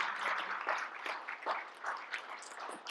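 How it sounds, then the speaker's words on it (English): Applause for legislators at a chamber of commerce send-off event: a modest room of people clapping in uneven bursts, fairly quiet and somewhat distant, lasting a few seconds. "Big round of applause for some of you"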